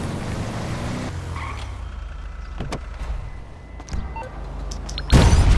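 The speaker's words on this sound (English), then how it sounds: "She's driving around with Doom crew member B11 in his Granger LX." A Granger LX SUV drives in a video game, its engine a low steady rumble with brief knocks and clatter, ending in a louder burst of noise.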